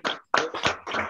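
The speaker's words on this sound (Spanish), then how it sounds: "Un aplauso para Santiago." Audience applause at the close of a lecture on the origin of language, a short burst of clapping with a brief gap partway through, fairly close and with no talk over it.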